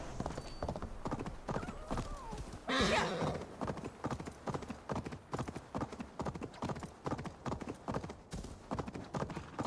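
Horse hooves clip-clop in a steady galloping rhythm through most of a video game scene, with a loud neigh bursting out near the start, all fairly close and continuous.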